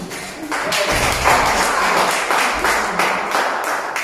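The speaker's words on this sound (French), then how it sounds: "On peut applaudir." An audience applauds in uneven surges, a rough patter of hands that swells, dips and swells again across a few seconds, fairly close and full.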